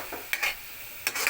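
Ground meat being stirred and sautéed in a pan for a green bean dish, with two short bursts of spoon scraping and sizzle separated by a quieter pause, close and fairly faint, no voices.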